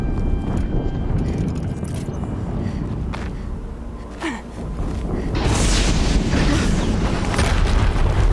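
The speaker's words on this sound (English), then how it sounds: "This does not sound good. Another explosion." Explosions go off in the video game Horizon Zero Dawn, heavy booming blasts with rumbling low end, one in the first half and a louder sustained roar building after the midpoint.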